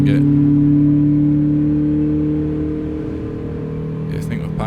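Volkswagen Polo GTI engine in American Truck Simulator holding a steady, loud high-revving drone that sags slightly midway, with a brief burst of noise near the end.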